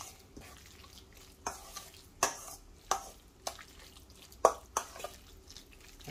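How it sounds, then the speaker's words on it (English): Turkey mince and a couple of tablespoons of parmesan stirred together for a cannelloni filling: soft, wet mixing noise broken by a series of sharp knocks of a spoon against the bowl, roughly one every half second, close and fairly quiet. "Mix that in to the meat mixture"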